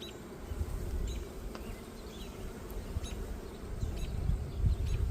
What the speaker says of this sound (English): I think there's bees here.